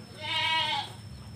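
A single goat bleats loudly and close by on a goat farm that grows its own feed. The call is short and quavering and stands alone over quiet farmyard ambience.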